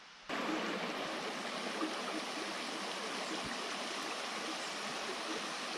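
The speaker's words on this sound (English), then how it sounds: "the creek is right behind my car" A creek runs just behind a forest campsite, its water rushing in a steady, broad wash that starts abruptly and stays constant and fairly close, with no voices.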